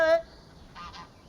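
A single loud goose honk opens the moment, briefly near, followed by fainter calling from geese on a Périgord farm where they are raised among walnut trees.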